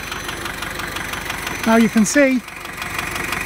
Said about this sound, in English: the little engine runs over very, very smoothly there